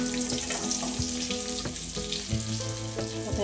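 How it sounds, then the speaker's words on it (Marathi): Stuffed okra with cumin fries on low heat in a pan, giving a steady close sizzle with a few light clicks and stirring knocks throughout. "याच्यामध्ये आपण जी भेंडी भरून घेतली होती ते याच्यामध्ये ॲड करायची आणि कमी गॅसवरती आपल्याला परतून घ्यायची।"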